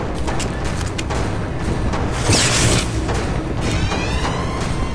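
A sniper rifle shot booms in Bioshock Infinite, a heavy blast swelling around the middle amid a dense, continuous rumble of game noise, with no talk over it.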